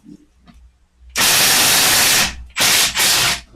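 An aerosol can hisses in a garage during transmission and mount repair work: one long loud burst, then two shorter bursts close by, with faint handling noises before.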